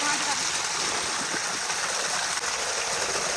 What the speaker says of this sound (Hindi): देखिए यहाँ कितना सारा पानी आता है